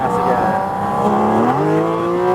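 A Porsche GT4 RS race car accelerates on a reverse-layout track, its engine note rising steadily and loudly from inside the cabin before dipping briefly and climbing again.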